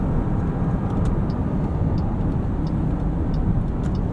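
A 2022 Jeep Grand Cherokee 4xe Overland plug-in hybrid with 375 horsepower accelerates in sport mode, giving a steady, loud low rumble of engine and road noise inside the cabin with no voices.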